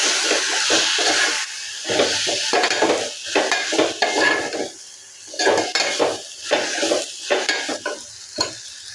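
Masala spices with Kashmiri red chilli powder stirred and fried in a pan for a hotel-style matar paneer sabji: a ladle scrapes and clinks against the pan in a loose repeated rhythm over a soft, steady sizzle.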